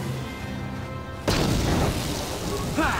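A grenade detonates in Star Wars: Knights of the Old Republic on PC: after a quiet tonal game ambience, a sudden loud boom bursts in and leaves a rumbling, crackling tail.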